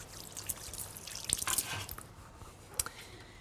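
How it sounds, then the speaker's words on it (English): Hands are rinsed under a running kitchen tap, with soft dripping and trickling water and a few splashes, faint and close by. "Just quickly wash my hands."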